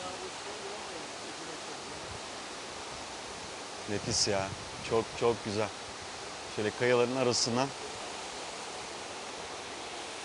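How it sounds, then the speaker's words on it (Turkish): Waterfall rushing among rocks in the Kaz Mountains near Yeşilyurt village, a steady broadband roar filling the whole clip, with people talking briefly over it in the middle. "Şelale de buradan görülüyor muhtemelen. Sesi geliyor."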